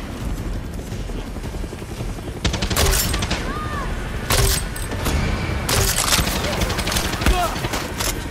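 Gunfire aimed at an enemy helicopter in the video game Far Cry 6, with sharp bursts of shots breaking over a steady rotor drone and a voice speaking now and then.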